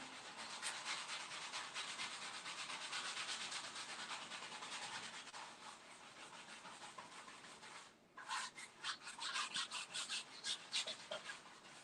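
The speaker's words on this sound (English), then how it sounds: "just kind of dab this everywhere and try to spread it as thin as you can on the canvas" A paintbrush rubs paint thinly across a canvas in steady, close back-and-forth scrubbing strokes, continuous at first, then shorter choppy dabs after a brief pause.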